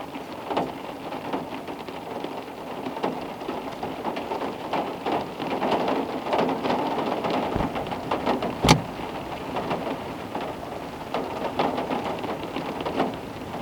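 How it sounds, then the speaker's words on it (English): Steady rain falling outdoors, a continuous hiss of drops on surfaces with scattered louder patters and one sharp crack partway through, no voices. "Let's see how much it's raining."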